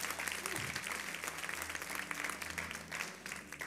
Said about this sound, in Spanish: Apláudale fuerte a esta nación maravillosa.